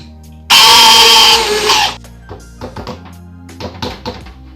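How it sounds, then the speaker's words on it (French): A kitchen blender whirs loudly for about a second and a half as it crushes fruit in kombucha, then stops, followed by several light taps and clunks from the jug nearby. "Donc je vais, avec mon mixeur, je vais l'écraser."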